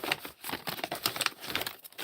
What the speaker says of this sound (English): Let me see if I can unwrap this nicely